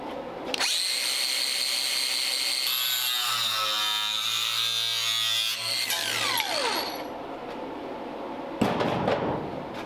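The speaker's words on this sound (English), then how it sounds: "we'll cut that excess off and hammer it around as we go" A power tool whines loudly as it cuts excess metal off a Ford Model A Roadster door, the pitch dropping and sweeping under load before winding down and starting again.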